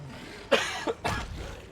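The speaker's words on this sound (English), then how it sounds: "Sorry, I had a cough." A person coughs during a live stream, two or three harsh close bursts in quick succession, loud over a quiet background.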